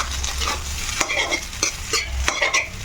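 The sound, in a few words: stirring egg and leftover rice together in a pan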